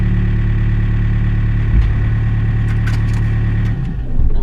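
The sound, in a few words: excavator engine idling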